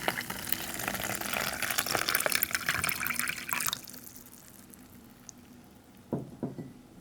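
Water pours into an opened Canadian IMP ration pouch, a splashing, gurgling fill for about four seconds, then quieter trickles and a few small drips close by.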